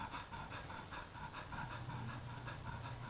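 A dog pants in quick rhythmic breaths close by, a steady huffing pulse over a low background hum, with no one talking.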